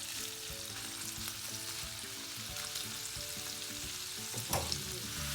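Prawns frying in a pan, an even hiss of sizzling oil with occasional stirring scrapes and a louder clank near the end, fairly quiet and close, with no speech.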